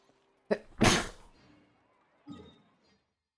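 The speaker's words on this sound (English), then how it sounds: "I sneeze." A single loud, close sneeze bursts out after a short sharp intake, followed by a pause and a fainter trailing vocal sound.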